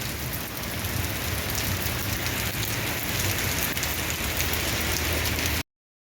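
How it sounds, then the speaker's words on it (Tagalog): Heavy tropical rain pours down in a dense, loud, unbroken hiss of drops drumming on surfaces, steady until it stops abruptly. "Hindi pa kami makapunta dyan kasi sobrang lakas ng ulan."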